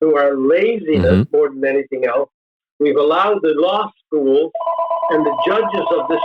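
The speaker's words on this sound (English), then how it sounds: "I'm sorry about the phone. I forgot to take it out of my office before I came on." A telephone rings in a home office during a talk show, its steady electronic ring starting partway through and continuing under someone speaking close to the microphone.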